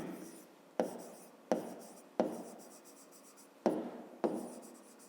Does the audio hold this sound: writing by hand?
yes